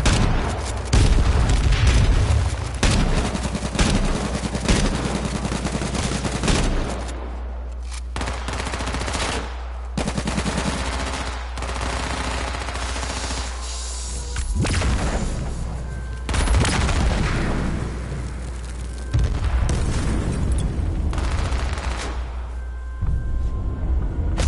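Gunfire and a grenade blast in the survival shooter H1Z1, heard as a dense run of loud overlapping shots and bursts with heavy low rumble, several pauses between volleys, and a booming impact near the start.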